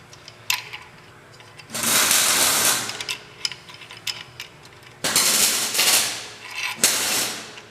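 Welding on a vehicle bumper in a workshop: two long bursts of harsh, crackling buzz with short pauses between, sharp clicks and clanks in the gaps, moderately loud and close, no talking.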